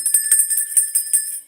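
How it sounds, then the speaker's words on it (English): A small handbell rings as a bell of shame, shaken in a rapid run of bright, high jingling strokes, loud and close, with no voices. "Where's my bell of shame?"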